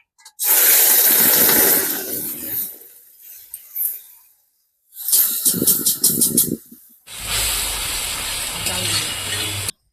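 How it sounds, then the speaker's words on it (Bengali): Crab brain frying in a pan gives bursts of loud, close sizzling and hissing that come and go, separated by short silences, with a steadier spitting fry toward the end. "এখন আমি ঘিলুটা ভেজে নেব"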